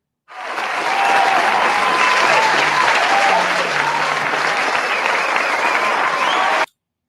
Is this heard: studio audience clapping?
yes